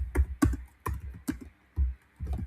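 Keystrokes on a computer keyboard, about six distinct clustered taps and short bursts with pauses between them, close and fairly quiet, with no voice.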